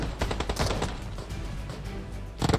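Rapid automatic gunfire in a shooting video game, dense repeated shots rattling close and loud throughout, with a fresh burst at the end and no talk over it.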